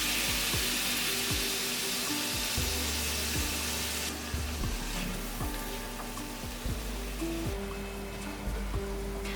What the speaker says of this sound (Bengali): সামান্য জল দিয়ে এবার মশলাগুলো ভালো করে কষিয়ে দেব